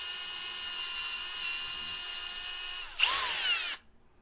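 A high-pitched power drill whines steadily, then briefly bites into material with a louder, rougher grind before stopping abruptly.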